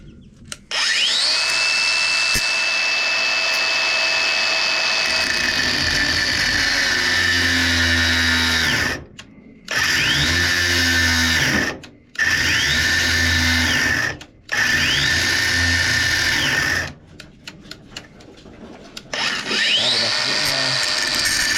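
Battery-powered cutting tool slicing through metal during a turbo replacement on a 1991 Toyota Liteace with a 2C-T engine, loud and close, whining in several long bursts separated by brief stops.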